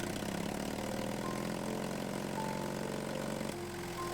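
The pony motor of a 1956 Cat D6 9U bulldozer runs steadily with a dense, even mechanical drone, close up and fairly loud, dipping slightly near the end, with no talking.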